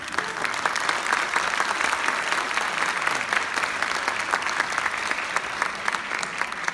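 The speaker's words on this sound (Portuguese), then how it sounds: "Eu bateria uma salva de palmas" An audience applauds steadily throughout, a dense, even clapping from a sizable crowd at a master class gathering. The clapping is fairly loud and holds without pause, with a little crowd murmur beneath it.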